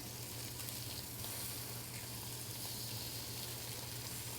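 Sea bass searing skin-down in olive oil in a pan, a soft steady sizzle that runs evenly throughout at low volume, no voices.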